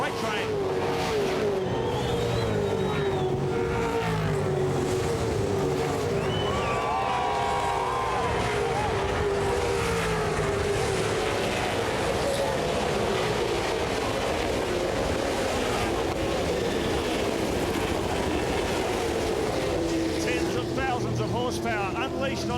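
V8 Supercars roar in a dense pack up Mount Panorama at Bathurst during the FAI 1000 race start, loud overlapping engines with rising and falling revs, crowd noise and commentary over the top.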